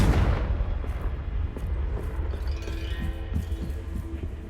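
Confringo blasting spell from Hogwarts Legacy, one loud booming burst at the start that decays into a long rumbling tail, with faint crackling and scattered small pops trailing off.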